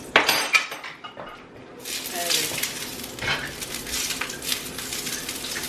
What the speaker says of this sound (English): just do a quick saute